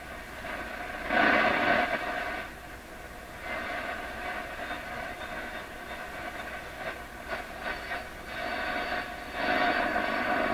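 A PYE 39HC shortwave broadcast receiver gives off a raspy, warbling teletype signal under a steady bed of static and hiss. The tone rises in strength and fades in bursts.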